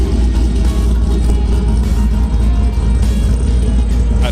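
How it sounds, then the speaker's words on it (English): A truck engine revs at an outdoor car show, giving a deep, continuous rumble that holds loud and close for a few seconds. "That truck sounds pretty mean."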